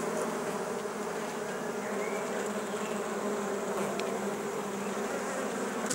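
Honey bees buzz densely around hive frames of partly capped honey, a steady, close, continuous swarm hum with a few individual bees passing nearer, with no talking.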